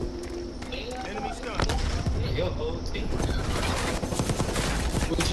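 Gunfire in a Call of Duty video game, Modern Warfare or Cold War alpha: dense rapid bursts of shots and battle noise, loud and close, under someone talking.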